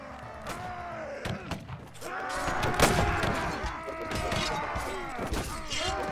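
Cannons fire in a Caribbean pirate video game, a rapid series of booming shots and crashes that overlap into a sustained, rumbling barrage with sharp impacts standing out.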